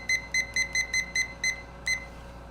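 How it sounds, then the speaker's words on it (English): A kitchen-style timer beeps in a steady run of about eight short, bright electronic pips, each the same pitch, fairly close and clear, with no talk over them. "I've got to reset this timer."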